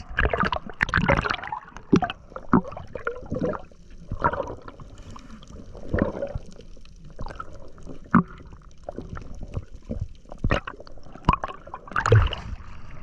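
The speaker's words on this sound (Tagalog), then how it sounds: "ang lakas ng agos" Strong water current gushes and gurgles continuously with splashing bursts, loud and close throughout.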